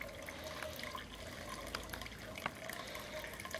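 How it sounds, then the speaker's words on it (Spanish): Faint, steady bubbling and trickling water in a fish aquarium, a continuous gentle gurgle with small splashes, heard quietly with no voices. "Ahí se alcanza escuchar el sonido del agua."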